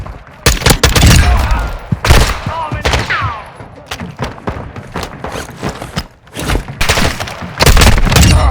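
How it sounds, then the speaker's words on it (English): Heavy gunfire and mortar blasts in Warzone 2 DMZ: rapid loud bursts of shots and booming impacts pile up throughout, with brief lulls, close and intense, a voice calling out in between. "I'm taking enemy fire! Mortar is engaged!"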